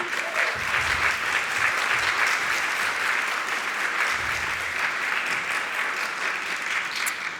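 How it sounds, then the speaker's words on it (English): An audience at a museum lecture applauds warmly, a full, even wash of clapping that holds steady for several seconds and then fades slightly at the end, with faint low murmurs beneath. "please join me in a big round of applause for Caitlin and Gloria"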